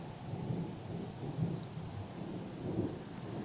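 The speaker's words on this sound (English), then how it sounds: "I hope you hear the thunder, because that's the earth speaking again." Thunder rolls as a low, continuous rumble that swells and fades, mixed with a steady hiss of rain and heard without speech.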